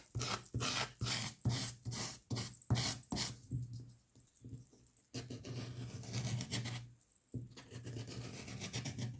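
Paint and grit being scraped across inky smooshed book pages for a tag journal, a run of close, rough rhythmic strokes with brief pauses, then a steadier scraping pass and a short gap before more.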